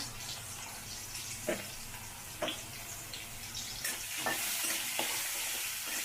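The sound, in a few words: potatoes frying with salt and turmeric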